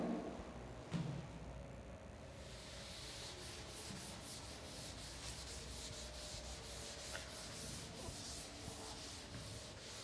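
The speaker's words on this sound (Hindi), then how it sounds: "थोड़ा सा ऊपर रब करके यहाँ लिख देता हूँ" Steady rubbing on a chalkboard by a teacher in a classroom, a continuous close scrubbing that runs without break for several seconds.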